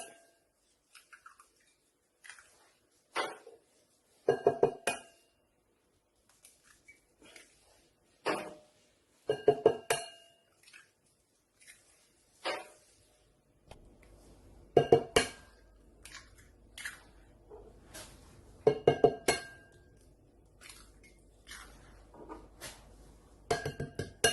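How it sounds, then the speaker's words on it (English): Irregular bursts of sharp clinking and tapping as an egg is cracked and beaten with a utensil against a bowl, close by with quiet pauses between. "Now I'm going to break the egg."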